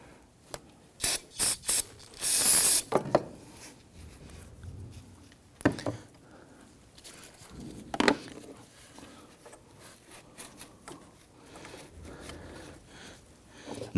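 Solvent spray hisses in a few short bursts into the alternator bolt track of a 2017-2020 Hyundai Elantra 2.0L L4, followed by scattered mechanical clicks and quiet workshop noise.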